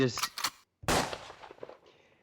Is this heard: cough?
no